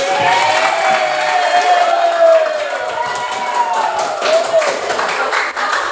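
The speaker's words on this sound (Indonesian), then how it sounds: "tepuk tangan" A classroom of students gives steady, sustained applause for a classmate's top score on an arithmetic sequence problem. It sounds dense and loud throughout, with voices mixed into the clapping.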